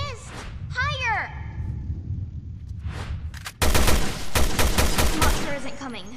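Rapid gunfire in the video game Resident Evil Revelations 2 erupts in the second half, loud close bursts after earlier game voices and effects, with in-game speech mixed in.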